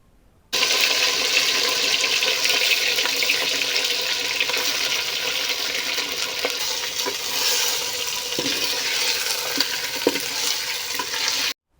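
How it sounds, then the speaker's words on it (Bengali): Marinated chicken tipped into a hot clay pot of whole spices, dried chillies and leaves for restaurant-style handi chicken, sizzling and frying steadily and loudly for several seconds with faint stirring clatter and no talk. "এর পরপরই দিয়ে দিতে হবে ম্যারিনেশন করে রাখা মাংসটি। সম্পূর্ণ মাংস চলে যাবে ওই হাঁড়ির মধ্যে।"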